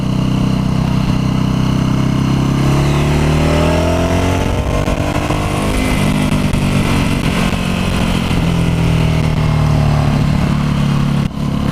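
A Ducati Hypermotard motorcycle under way, its engine loud and close with rising and falling revs as the rider rolls on and off the throttle, a continuous mechanical drone with no talking.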